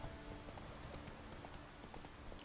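Horse hooves clip-clopping in The Witcher 3 video game, a steady run of faint, evenly spaced hoofbeats at a trotting pace, quiet and close with no voices over them.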